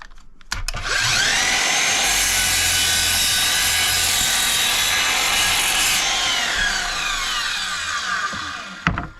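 A WORX Nitro 216mm cordless sliding mitre saw spins up and slices through wood at a 15-degree angle, a loud, steady whining cut lasting several seconds before the motor winds down.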